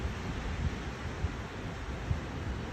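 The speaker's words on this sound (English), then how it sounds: "Super windy." Strong gusts in a Pennsylvania windstorm rush past outdoors as a broad, steady roar with rumbling buffets against the microphone, continuous and fairly loud, with no one talking.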